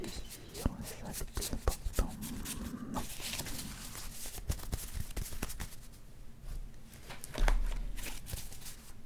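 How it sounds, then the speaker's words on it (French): Trading card packs being handled and opened up close: crinkling wrapper foil, card flicks and shuffling rustles in irregular bursts, soft and intimate, with quiet talking in between. "ça m'a donné envie de faire une ouverture de cartes"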